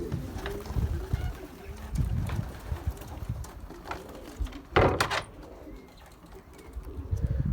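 Soft pigeon cooing mixed with fluttering wing flaps and scattered taps nearby, with a louder flurry of wingbeats midway.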